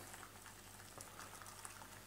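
Boiling water bubbles and hisses steadily at close range while a traditional 1950s-style baked black pudding is being prepared, with no talking.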